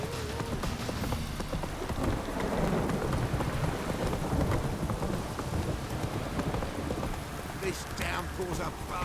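Heavy downpour with rolling thunder in The Witcher 3, rain hissing steadily on surfaces throughout while low rumbles swell beneath, a character's voice speaking over the storm.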